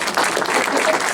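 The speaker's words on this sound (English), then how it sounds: "Let's give Mark a round of applause." An audience claps warmly for a cameraman named Mark, who brought in festive decorations; dense, steady applause fills the moment up close with no talk over it.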